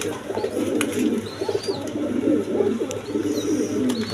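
Big-sized pigeons coo steadily and loudly up close, their low rolling calls overlapping without pause against a busy loft background.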